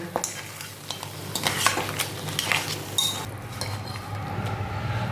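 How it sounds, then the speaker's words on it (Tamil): A ladle stirs a thick crab pepper masala in a pan just off the heat after coriander is scattered in. Close scraping and clinking strokes come with a soft residual sizzle, which continues after the stirring stops. "கொஞ்சம் கொத்தமல்லியை நல்லா தூவி விட்டு நல்லா கிளறி விடுங்க"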